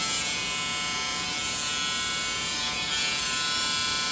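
A steady, close electric buzz of Peanut hair clippers runs continuously, cutting hair with an even droning hum and no pauses.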